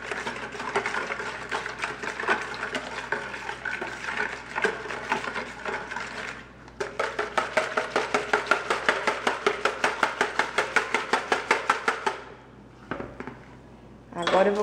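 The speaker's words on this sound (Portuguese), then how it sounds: "Agora eu vou pegar o fouet para ajudar a misturar aqui." A metal whisk beats a single egg in a small bowl for a sausage roll dough, a fast steady rhythmic clatter that speeds into rapid regular strokes, close and fairly loud, then stops.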